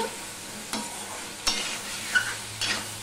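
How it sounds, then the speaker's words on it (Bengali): A spoon stirs turmeric through potatoes in a pan on a home stove in a Bengali kitchen, giving a few distinct scraping strokes over a faint, quiet background, with no talking. "আবারও হলুদটা সম্পূর্ণ আলুর সাথে মিশিয়ে নিচ্ছি"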